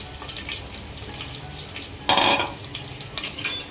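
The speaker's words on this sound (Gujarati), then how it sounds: "હવે નાખીએ આપણે જે સમારેલા બટેકા હતા ને એ બધા નાખી દેવાના" Chopped potatoes go into hot oil. A steady background sizzle jumps into a sudden loud hissing burst as they hit the pan, then settles back with a few smaller crackles.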